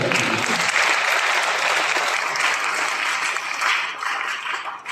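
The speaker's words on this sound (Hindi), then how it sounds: "ताली बजाइए माता" A church congregation claps steadily for the mothers in the gathering, a dense, loud wash of applause lasting throughout and easing slightly near the end, with no voices on top.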